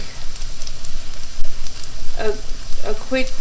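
Onions fry and sizzle in a non-stick pan for a lemony bacon carbonara, with a steady crackle and a few sharper scraping stirs near the end, close and fairly loud, no talking.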